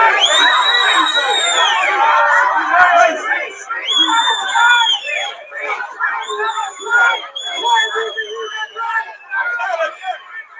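A large crowd shouts and cheers together in a loud, continuous roar, with high voices rising above the babble in long sustained calls.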